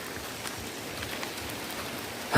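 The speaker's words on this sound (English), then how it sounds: "from a distance I can hear like there is rain coming from this direction" Approaching rain in the Kenyan countryside, a faint, steady hiss of distant rainfall with soft scattered drops, continuous and low, ending with a brief louder bump nearby.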